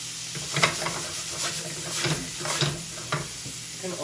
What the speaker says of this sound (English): So I'm going to add my celery now.